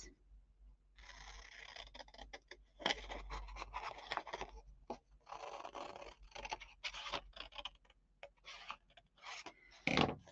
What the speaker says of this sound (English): I'm just going to take my scissors and cut my piece